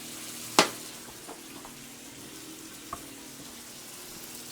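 Pot roast searing in a pan gives a faint, steady low sizzle, close but quiet, with a sharp clink near the start and a small tap later, no talk.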